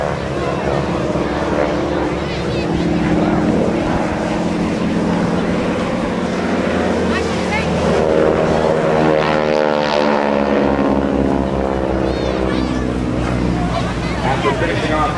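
A GEICO Skytypers propeller airplane flies a solo bomb run at an airshow, its engine drone loud and steady with a rising and falling pitch sweep as it passes, while an announcer talks over it.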